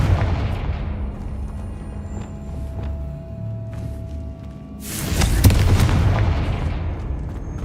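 Confringo blasting spell in Hogwarts Legacy, a loud fiery burst that erupts late and fades into crackling debris, following a stretch of quieter ambient hum and faint clicks.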